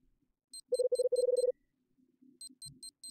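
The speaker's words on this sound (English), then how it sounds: "I hear my pager beeping somewhere. It keeps beeping as I slowly regain my focus." Electronic pager in a Bomb Rush Cyberpunk mod game beeping in quick bursts of short, bright tones, a dense run of repeated beeps, then a pause and another shorter series, faint low sounds in between.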